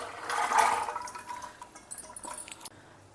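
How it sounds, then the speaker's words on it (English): Fresh water splashes and pours over soaked kabuli chana (chickpeas) in a kitchen, a close gush followed by scattered drips and light clinks as the flow tapers off, with no talking. "I have drained the water, added fresh water to it."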